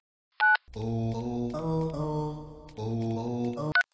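Phone dialing tones while placing a callback: a short beep, then a run of loud, steady multi-tone dial sounds that shift pitch in a few long segments and end with another brief beep.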